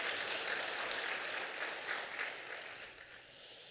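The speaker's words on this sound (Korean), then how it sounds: "우리 하나님께 박수로 영광 돌리겠습니다" A church congregation claps together during a Sunday worship service, a broad, steady wash of many hands that holds loud and then eases slightly toward the end, with no voices over it.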